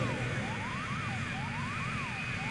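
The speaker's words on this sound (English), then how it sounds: "waiting for one last jet to clear" A jet aircraft roars along an airport runway, a loud, steady engine rush that fills the whole stretch, with a wavering siren-like tone sweeping up and down on top.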